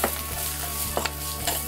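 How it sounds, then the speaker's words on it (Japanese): Boiled ingredients tossed with grated garlic in a hot pan sizzle steadily, with a few quick scraping stir strokes and light clinks of a utensil against the pan, close and fairly loud. "炒めるだけですね"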